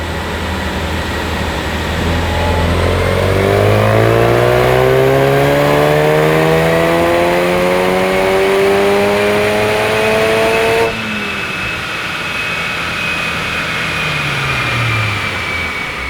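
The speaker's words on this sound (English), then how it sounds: "we just finished running the Focus RS on the dyno" A 2016 Ford Focus RS turbocharged engine on a dyno revs steadily upward through the gears, loud, pitch climbing over several seconds, then drops off abruptly and winds down as the revs fall.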